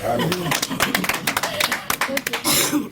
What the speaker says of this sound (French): Est-ce que vous ne pouvez pas applaudir?